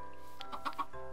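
A chicken in Minecraft gives a few short, soft clucks in quick succession over a steady low game tone.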